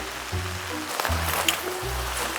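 Rain falls as a steady, dense hiss and patter that runs continuously, while a voice hums or murmurs in low tones over it.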